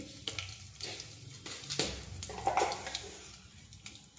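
Two dried red chillies and tempering spices sizzle in hot oil for a brinjal tomato curry, a steady crackling fry broken by a few sharp pops and stirring clicks.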